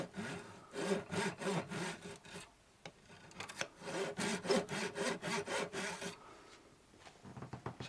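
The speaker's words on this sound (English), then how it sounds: "So that's sawn." A wooden blank is cut with a hand saw in two runs of brisk, rhythmic strokes, close and crisp, separated by a short pause, with no talking.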